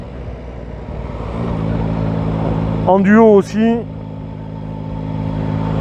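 A Yamaha Tracer 9 GT 2022 motorcycle rides along with a steady mid-pitched engine drone, close and continuous, while someone talks over it throughout.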